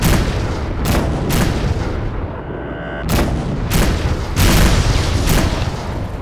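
Space-combat explosions and gunfire from the Rebel Galaxy Outlaw video game: loud, repeated booming blasts in quick irregular bursts, one after another over a constant rumbling background, with no talking.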